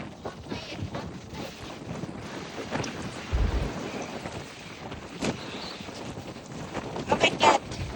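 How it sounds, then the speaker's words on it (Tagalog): Strong wind blowing by the sea with choppy waves, a steady broadband rush and buffeting gusts against the microphone, loud and close throughout, with brief bursts of a voice over it. "Lakas ng hangin."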